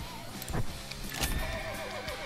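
A horse in a video game lets out a loud whinnying neigh, with soft hoof clip-clops and game sounds underneath.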